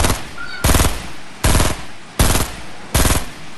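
Gunfire in Fortnite: four loud, evenly spaced bursts of rapid shots ring out close by, each lasting roughly half a second with short gaps between, and no talking over them.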